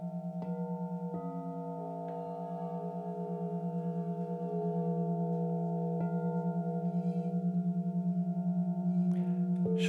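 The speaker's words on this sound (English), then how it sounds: "today I'm playing the crystal singing bowls for you" Crystal singing bowls played for sound healing hum in long, layered, sustained tones with a gentle steady pulse, new bowls softly joining now and then, resonant and close with no voices.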